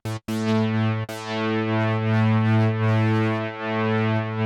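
A Synthstrom Deluge synthesizer triggered over USB MIDI holds a steady, buzzy harmonic tone, cut by two brief dropouts near the start, then sustaining loudly on its own with slight wavering.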